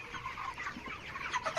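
Broiler chickens on a poultry farm cluck in short, overlapping calls from several birds nearby, a busy, fairly soft flock chatter without any voices.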